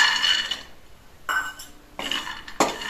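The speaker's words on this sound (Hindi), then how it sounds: "अब हम गरम कढ़ाई में डालेंगे अखरोट को और बिना घी बिना तेल के इसे धीमी आंच पे भून लेंगे" Chopped walnuts dry-roast in a hot wok over low heat with no oil: short, close bursts of clattering and scraping as the pieces are stirred against the metal, with quiet gaps between.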